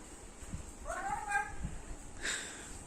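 A cat meows faintly a couple of times, short rising calls against a quiet background.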